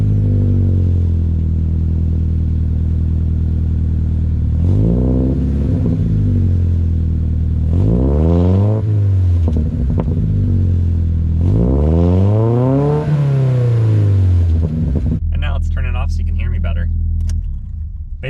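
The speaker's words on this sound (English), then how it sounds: "It's missing the catback exhaust because it has a straight pipe." Revving of a 2023 Subaru Crosstrek Premium with a straight-pipe exhaust and missing cat-back section, several loud, close throttle blips rising and falling in pitch over a rumbling idle, ending with a brief clatter.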